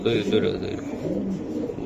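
A racing pigeon coos softly a few times up close, low warbling calls over a quiet background.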